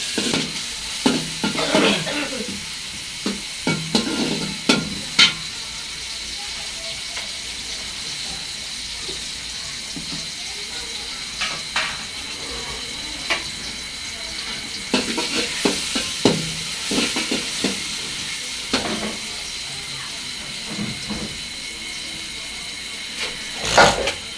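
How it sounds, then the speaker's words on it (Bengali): Onions and green chilies frying in oil in a cooking pot, a continuous sizzle with repeated bursts of scraping and stirring from a spoon scattered throughout, close and fairly loud. "এই যে পেঁয়াজ আর মরিচ ভাজা হয়ে গেছে"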